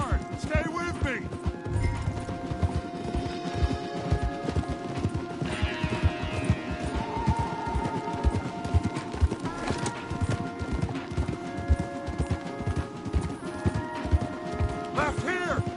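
Horses galloping hard in a Red Dead Redemption 2 ride, a dense continuous drumming of hooves close up for the whole stretch, with game music and effects over it.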